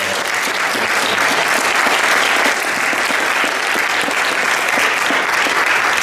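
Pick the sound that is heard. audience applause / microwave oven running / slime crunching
audience applause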